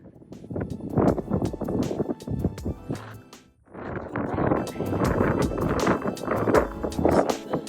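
Strong gusty wind buffets the microphone on a descending hiking trail on the Tongariro Crossing, loud rumbling roar with a brief lull midway before the blasts return harder.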